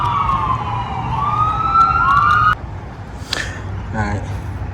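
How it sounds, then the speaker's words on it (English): An ambulance siren wails loudly near a medical center, rising and falling in a steady sweep for a few seconds before cutting off abruptly, leaving road noise and brief faint voices. "ambulances come through pretty regularly, making lots of sound"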